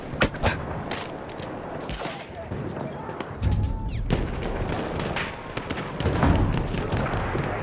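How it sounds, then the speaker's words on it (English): Sustained rattling gunfire in a World War I trench battle game, dense and somewhat distant volleys under a constant battle roar with a few louder booms. "machine gun, look lively!"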